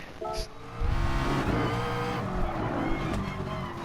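A GT race car in a racing video game accelerates at full throttle and snaps up through the gears, its engine note loud and continuous with a rising pitch as it pulls hard out of the corner.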